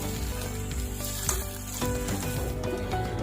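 Mutton white karahi with ginger and green chillies being stirred in a pan, with a steady sizzle and frying crackle underneath soft scraping strokes of a spoon, close and continuous without any voices.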